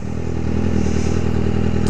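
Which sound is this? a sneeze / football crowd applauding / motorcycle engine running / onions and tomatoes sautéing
motorcycle engine running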